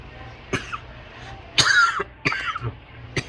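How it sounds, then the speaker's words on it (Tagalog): A person gives a few dry, harsh coughs: one short cough, a louder burst, then a couple more, close and isolated against a quiet background. "Masakit na sa lalamunan kada ubo."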